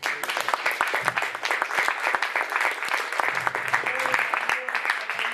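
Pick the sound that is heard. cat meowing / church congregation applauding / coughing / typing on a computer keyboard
church congregation applauding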